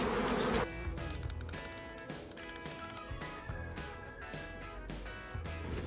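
A swarm of honey bees is being caught by hand in Bulgaria, giving a dense, steady buzzing hum that fills the whole stretch, with a louder burst right at the start.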